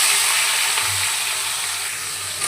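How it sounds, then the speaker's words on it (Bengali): Food fries in hot oil in a wok, giving a steady, loud, close sizzling hiss that runs unbroken throughout with no talking. "একসাথেই দিয়ে দেবো, দিয়ে ভেজে নেব।"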